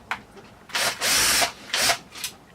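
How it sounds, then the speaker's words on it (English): A small electric screwdriver whirs in several short bursts, close and fairly loud, as screws come out of the metal shielding on a later-revision Sega Dreamcast board. No one talks. "8 total screws to pull this shielding off"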